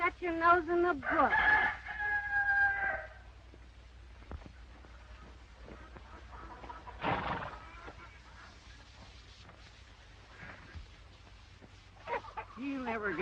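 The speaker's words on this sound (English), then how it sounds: "Abby, help me find that rooster." A rooster crows loudly near the start, with fainter fowl calls and clucking later, set within a 1934 Western film scene with background music and people talking.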